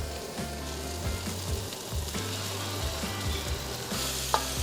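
Red onions and garlic sizzle steadily in a pan as they cook down until tender, a continuous close frying hiss with occasional stirring scrapes and a low hum underneath.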